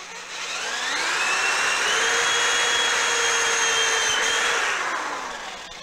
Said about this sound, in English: Take your drill,